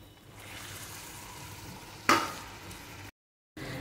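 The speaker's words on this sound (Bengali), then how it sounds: "নেড়ে নেব, ভালো করে কষে নেব।" Chicken fries in a pan with onion and tomato masala, making a low steady sizzle broken by one sharp stirring scrape. A short silence follows before the frying resumes, and no voices are heard.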